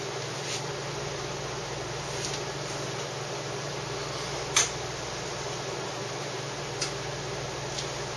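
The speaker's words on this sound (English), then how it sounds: "The machine will extract coffee like usual, as if it was grinding, except it just uses the ground coffee instead of grinding the beans" A Saeco Syntia super-automatic espresso machine extracts coffee from pre-ground coffee with a steady low mechanical hum and faint pump drone, punctuated by a few soft clicks and one sharper tick.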